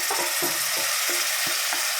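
Boiled mutton being stirred into a biryani pot for Chennai-style mutton biryani, with a hissing sizzle and a run of regular scraping stirs, about six strokes, close and without talking.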